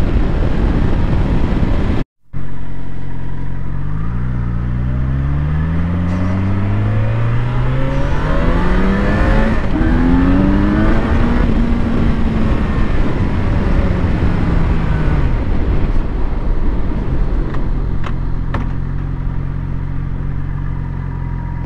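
A Yamaha FZ6R motorcycle is ridden on the road. Its engine note climbs loudly and steadily through a long acceleration, then levels off under constant wind rush.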